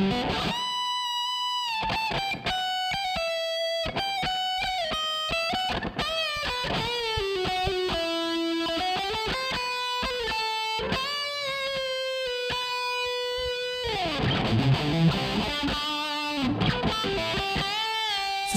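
An electric guitar played through a Line 6 POD Farm distortion preset on a UX2 interface, with sustained, heavily distorted lead notes and bends, loud and alone, growing thicker and more chaotic toward the end.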